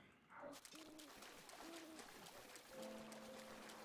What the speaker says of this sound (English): Little owls that sound like Mario.